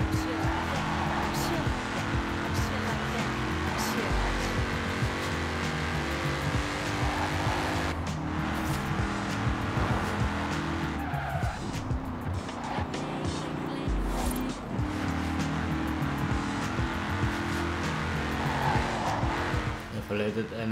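A Ford Mustang cruises in the racing game Forza Horizon 4 with a continuous, loud engine drone and occasional tire squeal, heard alone without any talking.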